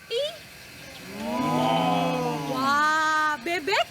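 Several children's voices imitate a cow's moo together, a drawn-out, wavering group 'moo' lasting a couple of seconds, with brief higher calls at the start and end, during an online Sunday school service.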